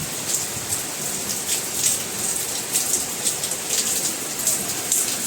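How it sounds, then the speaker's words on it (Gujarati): Heavy monsoon rain pours in Rajkot while wind blows, a dense, continuous, roaring hiss with gusty swells and pattering drops on nearby surfaces, no speech. "તો આ તમે જોઈ લો કેવો વરસાદ પડી રહ્યો છે"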